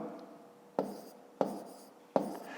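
A pen writes numbers for a long division exercise, with three short, sharp taps of the pen on paper, each followed by brief faint scratching, quiet and close.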